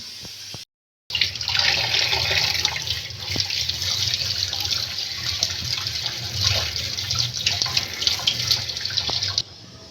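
Steady running tap water splashing over papaya leaves in a sink, a continuous hiss with occasional wet rustles, close and fairly loud.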